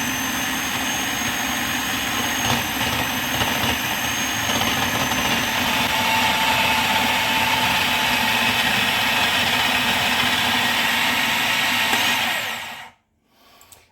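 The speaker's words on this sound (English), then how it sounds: "Just start blending the flour and the sugar and then just add the cubes of ice cold butter." Blender mixing flour and sugar with cubes of ice cold butter for sweet shortcrust pastry, a loud continuous motor whir that runs steadily for about twelve seconds before cutting off, followed by a faint clatter.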